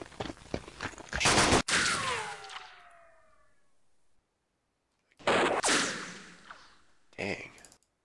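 Gunfire from the wartime strategy video game West Front: loud bursts of battle noise with rumbling, decaying blasts, a pause, then further heavy bursts, with no talking.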